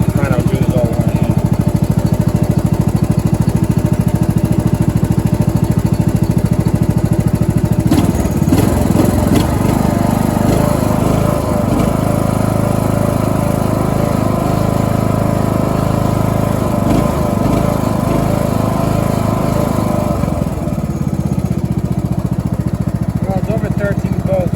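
An old Ariens riding mower that sat for years runs loudly up close, its engine idling steadily then revving harder with throttle in the middle before settling back, with someone talking over it.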